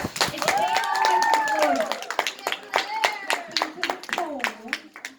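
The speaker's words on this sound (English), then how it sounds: "So y'all give her a big round of applause." Audience clapping for a woman welcomed at a local Le-vel gathering in Rock Hill, South Carolina, sharp scattered claps under a voice that talks over them throughout.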